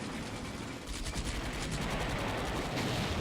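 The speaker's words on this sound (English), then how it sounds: "Artillery hitting hard there in the centre." Artillery fire in the Combat Mission: Beyond Overlord war game at La Maison Brie, a dense roll of booming impacts and crackling blasts that runs steadily with no letup, loud and continuous.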